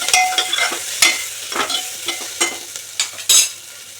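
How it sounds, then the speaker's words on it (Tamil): Turmeric-spiced onion and tomato mixture stirred in a frying pan for mutton curry, with a steady close sizzle and repeated scraping strokes of a spoon across the pan, each stir giving a brighter rasp. "நல்லா கிளறி வச்சுட்டு"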